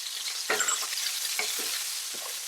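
Pork belly and ginger frying in a pan, a continuous bright sizzle broken by a few brief scraping stirs, close and steady with no talking.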